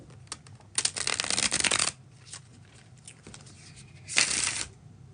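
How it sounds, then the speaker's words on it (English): Two bursts of rapid riffling as a stiff tarot card deck is bridge-shuffled, the first longer, separated by soft taps and handling noises. "There it was, the bridge shuffle."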